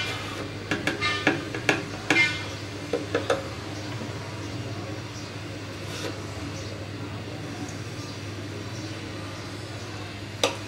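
Flour mixed with salt in a bowl for a chicken wing coating: a burst of close clinks and scrapes early on, then a duller, steady background with only an occasional tap.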